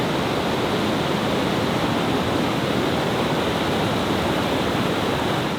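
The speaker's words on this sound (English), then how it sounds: "it's currently closed, as you can see by the raging water flowing across" Raging floodwater pours across the Ivanhoe Crossing in a steady, loud, broadband roar that never lets up, with no voices and no breaks.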